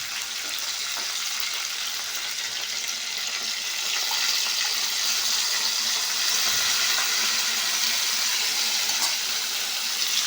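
Glass of water poured into a simmering Andhra-style fish curry with spiced masala, giving a steady, loud rushing splash and sizzle that continues without a break, with no talk over it.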